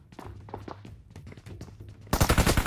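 In a hunting video game, guns fire a rapid run of sharp, punchy shots that fill the space, with a few scattered thuds before them and a louder, dense burst near the end.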